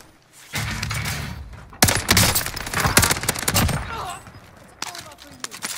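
Shooter-game gunfire comes from several directions: loud bursts and rapid cracks pile up with scattered single shots, and a voice talks over the shooting.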